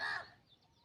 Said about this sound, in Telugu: కాకి అరుపు